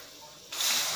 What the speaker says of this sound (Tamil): கால் கப் தண்ணி ஊத்தலாம்.